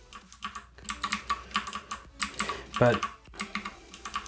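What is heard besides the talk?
typing on bronze clicky mechanical keyboard switches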